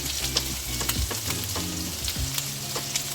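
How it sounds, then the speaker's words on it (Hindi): Chicken fries in a pan with salt, turmeric, chicken powder and red pepper for chicken jalfrezi. The sizzle is continuous and close, broken by repeated scraping stirs. "गोल्डन होने तक हमने इसको फ्राई करना है, जब तक कि गोल्डन ब्राउन ना हो जाए"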